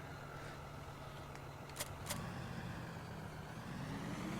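Tractor engine pulling a trailer in Farming Simulator 2013, a steady low drone running throughout at moderate level, with two brief higher-pitched hisses partway through.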